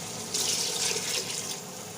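Two glasses of water poured into a cooking pot of arvi gosht, mutton with taro root, give a steady, moderately loud splashing rush lasting about a second before it tapers off, heard alone without talk.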